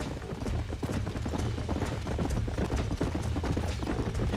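A herd of horses gallops in Red Dead Redemption on the Xbox 360, the hooves a dense, continuous clatter of clip-clop beats that stays loud and close throughout.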